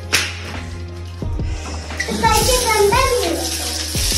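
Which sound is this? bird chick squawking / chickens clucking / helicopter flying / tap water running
tap water running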